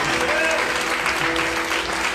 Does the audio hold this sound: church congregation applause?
yes